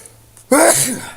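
A single sharp sneeze bursts out abruptly after a quiet moment, loud and close, with a brief trailing breathy tail, from a man mid-conversation who has an allergy itch.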